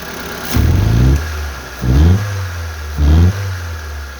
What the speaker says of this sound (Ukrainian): він уже набирає оберти